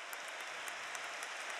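Stadium crowd applause for Mario during an Inter versus Chievo football match in steady rain, heard as a distant, washy roar of clapping with no distinct individual claps.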